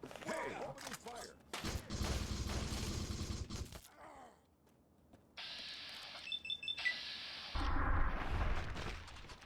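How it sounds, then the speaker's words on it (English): Gunfire and explosive combat sounds from the video game Fallout 3, dense bursts of shots and blasts in loud stretches separated by a brief lull, with electronic game tones mixed in. "So now, we're gonna have to kill you. Hey, opening fire!"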